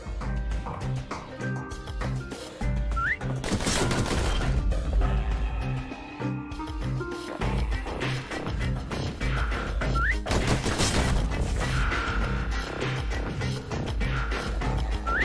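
Customized pistols fire in the video game Bastion on Nintendo Switch, heard as a few sharp, loud bursts that cut through a dense, steady music and effects bed.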